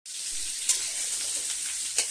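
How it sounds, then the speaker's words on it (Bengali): Potatoes frying in a pan in a home kitchen, a soft continuous hiss of hot oil with two faint pops, heard alone without talk. "আলু ভাজা হচ্ছে।"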